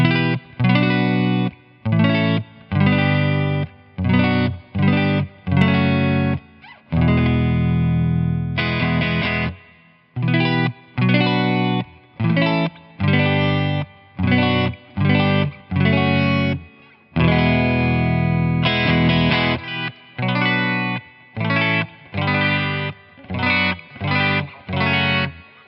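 Clean electric guitar through an Orange Gain Baby 100 amplifier and a Celestion G12H Redback 12-inch speaker, played on an ES339: loud, steady chord phrases in short repeated bursts with brief pauses and a couple of longer sustained strums, no voices.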